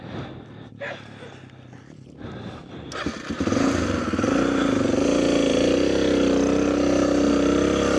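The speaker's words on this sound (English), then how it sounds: "we're on the mighty DRZ250 RRR" Suzuki DRZ250 dirt bike engine starts up loud and near around the three-second mark, then holds a steady, rumbling run with slight revving for the rest of the stretch.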